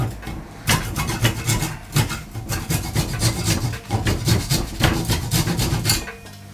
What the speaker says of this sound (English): I've got a saw handy. Yes, we need to cut that off